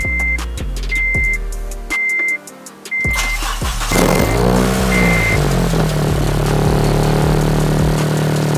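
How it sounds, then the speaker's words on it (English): A car's warning chime beeps several times, then the engine cranks, catches and settles into a loud, steady idle. "So I'm going to go ahead and start the car."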